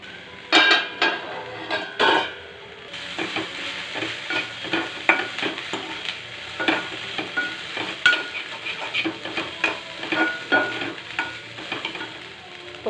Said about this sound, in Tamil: மூடி போட்டு வெந்ததுக்கப்புறம் நம்ம திறந்து வச்சே கிளறி இறக்கிடலாம்.